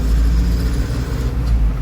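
A truck loaded with about five to six tonnes of centring material rolls along the road, giving a heavy, steady low engine rumble close by for a brief moment.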